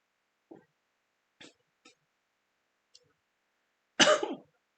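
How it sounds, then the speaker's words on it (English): A person with hiccups gives several short, sparse hiccup-like bursts, then one louder, fuller cough near the end, all close and isolated in a quiet room. "Now I cough and hiccup at the same time."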